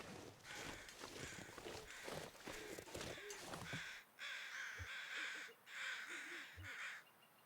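Crows cawing in the survival game The Long Dark, several harsh caws in a row amid other game sounds, then clearer repeated caws with a couple of soft thuds.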